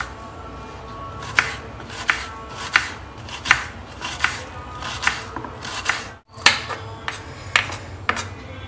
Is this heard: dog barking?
no